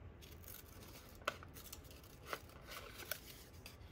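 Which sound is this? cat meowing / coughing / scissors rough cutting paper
scissors rough cutting paper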